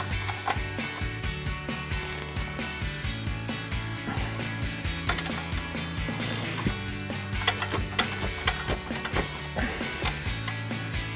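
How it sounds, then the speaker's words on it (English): A 15mm ratcheting wrench tightens the strut nuts on a Toyota Tacoma during a leveling kit install: rapid close ratchet clicks come in repeated bursts with pauses between strokes, over a faint steady hum, and nobody speaks. "And then we're taking a 15mm ratcheting wrench and tightening those down."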